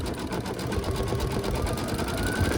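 An embroidery machine stitching out a deer Christmas ornament in a 4x4 hoop runs with a fast, steady mechanical whirr and rapid needle chatter, close and continuous throughout.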